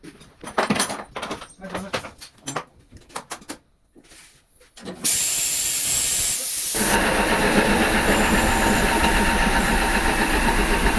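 A DEMU train engine runs steadily after starting, a loud continuous hiss and rumble filling the second half after a stretch of clattering knocks and bangs nearby.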